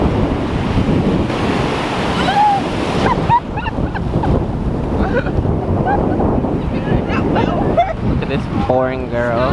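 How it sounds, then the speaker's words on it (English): Ocean surf washing onto a beach, a steady broad roar of breaking waves throughout with wind noise on the microphone, and voices and bursts of laughter rising over it, clearest near the end. "She keeps looking for the wave."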